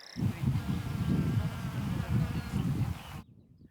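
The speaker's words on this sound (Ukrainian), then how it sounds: "Якщо нині бджоли тут лише почали запилювати полуницю" Dense, continuous buzzing of bees up close as they pollinate flowering strawberries, a low humming drone that swells slightly before cutting off abruptly near the end.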